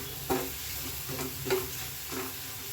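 Egg masala ingredients with chilli powder frying in hot oil, a steady close sizzle broken by four scraping stirs of a spoon in the pan at regular intervals.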